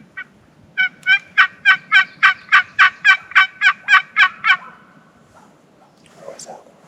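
A wild Merriam's turkey gobbles in a rapid run of about a dozen loud, evenly spaced bursts on a ridge in Arizona, ending abruptly, followed by faint rustling and a distant call.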